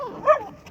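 One brief, high puppy whimper or yelp sounds at a busy animal market, close by and moderately loud over soft background chatter.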